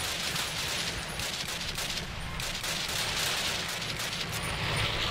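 Rapid gunfire in Call of Duty fills the whole stretch: dense, continuous volleys of shots, loud and close, with no pauses and no talk over it.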